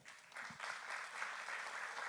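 Dense, continuous applause from a seated audience at an academic conference hall, heard faint and somewhat distant, a uniform wash of many hands clapping together throughout.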